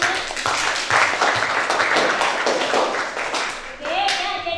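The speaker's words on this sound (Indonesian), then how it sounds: "Tepuk tangan untuk kita semua." A classroom crowd claps steadily for several seconds, dense and fairly loud, with a voice breaking in near the end.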